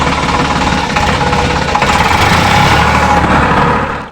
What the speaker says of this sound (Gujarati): હાલો અત્યારે આપણે ટ્રેક્ટર ચાલુ કર્યું.